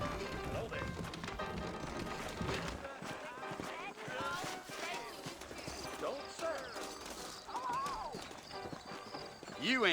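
Horses' hooves clip-clop in the video game Red Dead Redemption, a steady rhythmic trotting beneath ongoing speech, with occasional whinnies and other game sounds.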